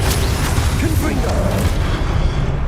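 A Confringo blasting spell cast in Hogwarts Legacy gives a loud, dense, booming burst with a deep rumbling low end that holds steady across the whole stretch. Faint voice-like sound sits in the mix.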